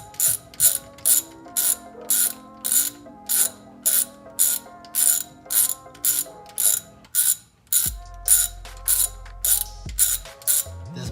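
A hand ratchet clicks in quick, regular bursts while tightening a bolt on a bicycle brake cable bracket during a cable-to-hydraulic conversion, close and crisp with steady back-and-forth strokes.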